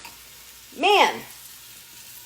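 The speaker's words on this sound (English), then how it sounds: "They're sizzling away." Food browning with cinnamon sizzles steadily in a hot frying pan, a faint continuous crackle beneath a short spoken exclamation.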